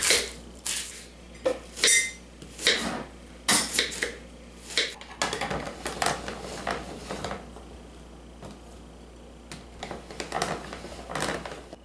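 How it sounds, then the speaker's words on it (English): A knife chopping onions in a home kitchen, heard as irregular, close, sharp taps and knocks that come in uneven clusters with short gaps between them. "So I'm going to cut up my onions."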